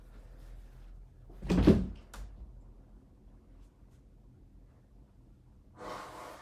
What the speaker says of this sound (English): I'm gonna blow my nose quick